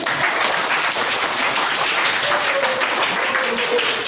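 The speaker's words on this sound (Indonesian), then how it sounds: "kita kasih tepuk tangan dulu" Steady applause from an audience in a school classroom setting, dense continuous clapping at close range, with some voices mixed in.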